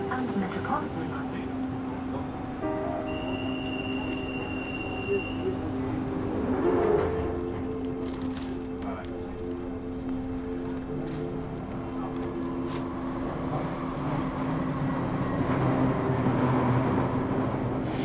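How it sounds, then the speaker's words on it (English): A London Underground Central Line train bound for West Ruislip gives a steady rumbling run with sustained tonal whines and a brief high squeal, holding at an even, fairly loud level throughout with a small swell midway. "This is a Central Line train to West Ruislip"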